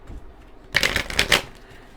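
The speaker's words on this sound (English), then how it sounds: "Shuffle these up really quick." A quick riffle of tarot cards being shuffled, a short crisp burst of flapping clicks close to the listener, with no talking over it.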